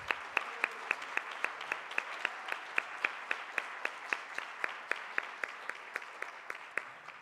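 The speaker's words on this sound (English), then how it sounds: "So let's give Sister Priya another round of applause, please." Applause at an international conference session, a rhythmic round of claps at a steady, even beat, close and continuous throughout.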